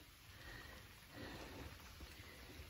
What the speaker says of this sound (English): And it's starting to rain.